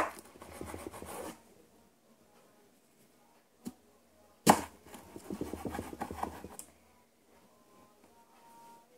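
A knife cuts a tomato on a board in separate bursts: a scraping cut, a single sharp tap, a loud chop, then a run of rapid slicing strokes, close and otherwise quiet.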